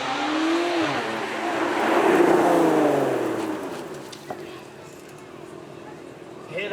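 A Lotus sports car engine revs and roars past at a supercar event, rising to a loud whine then fading into the distance, with a voice talking over it.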